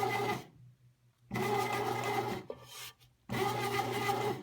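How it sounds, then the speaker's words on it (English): A bread machine kneading pizza dough: a motor hum with repeated laboring bursts of thumping and rubbing, separated by short near-silent gaps, close and fairly loud. "Now I can see that my bread machine is going to struggle"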